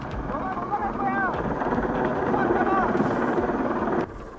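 A rescue helicopter hovering over a vessel during a crew rescue at sea, its steady rotor roar and wind buffeting filling the scene under raised, overlapping voices before the noise drops off near the end.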